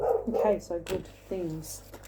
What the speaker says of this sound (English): Sorry if you can hear my dogs, they're going off right now.